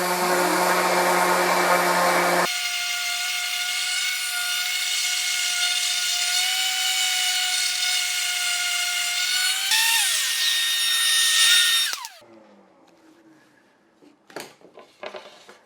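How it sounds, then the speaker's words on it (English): A power sander works 100 grit sandpaper across a wooden clipboard, giving a loud, steady whine that runs for about twelve seconds, winds down, and ends in a few faint clunks. "Okay, all nice and sanded. That was the 100 grit."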